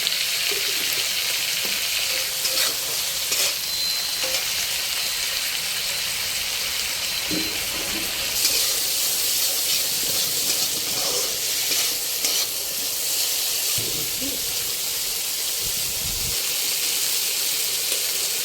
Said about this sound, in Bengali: চিংড়ি মাছটা একটু ফ্রাই ফ্রাই করে নেওয়া